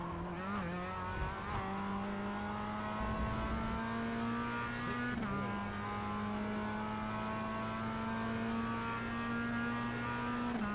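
Race cars in the iRacing sim, a pack of Mazdas and Toyotas, hold a steady loud engine drone with a pitch shift as gears change, plus brief tyre squeal, throughout with no talk.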